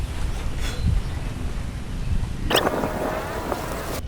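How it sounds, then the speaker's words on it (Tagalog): Steady outdoor wind buffeting the microphone at an airgun shooting range, a continuous low rumble with a brief louder gust and rustle near the end. "Ay, mahangin na."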